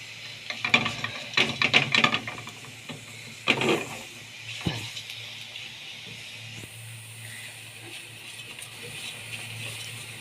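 Onions browning with a pinch of sugar in a frying pan, stirred with a utensil that scrapes and clatters in bursts over a steady low sizzle, then the sizzle goes on alone.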